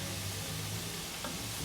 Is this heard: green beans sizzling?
yes